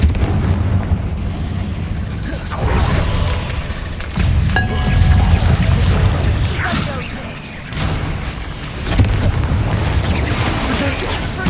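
Fiery Confringo blasting-spell explosions in the Hogwarts Legacy video game, several loud booms and whooshing bursts over a rumbling low-end combat mix, with a voice heard among the effects.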